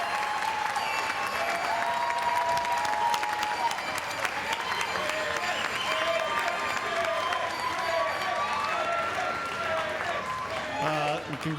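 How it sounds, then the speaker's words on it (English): Large crowd applauding graduates at a university commencement ceremony, dense sustained clapping with some cheering throughout, a voice faintly audible under the applause near the end. "Let's have a huge round of applause for all the graduates."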